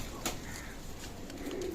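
Soft, low cooing from pigeons, close by, with a brief burst of noise near the start.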